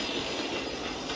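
A train passes close by, its dense, continuous rumble and clatter loud and unbroken throughout, with no voices.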